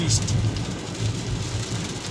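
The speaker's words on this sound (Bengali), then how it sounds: "বৃষ্টি থামতেই আছে না, চোখের পলকেও বাঁধান জানা যে এত বৃষ্টি।" Heavy rain falls steadily, a broad continuous wash of noise with a low rumble underneath, as if heard from inside a vehicle.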